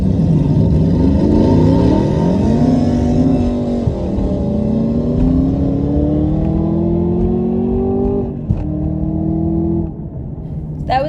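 A Ford Mustang Mach 1 launches hard in a no-prep drag race run, its loud engine note climbing and sweeping through several rising gear pulls before easing off near the end.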